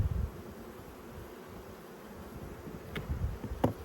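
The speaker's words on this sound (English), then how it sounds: "there's plenty of bees up in here" Honey bees buzzing around an open hive during an apiary inspection, a steady soft hum with faint rustling and a couple of brief sharp knocks near the end.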